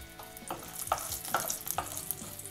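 Three small onions sautéing in a hot pan for a plantain kola urundai mix: a steady, close sizzle with a few soft scrapes and stirring knocks, and no voices.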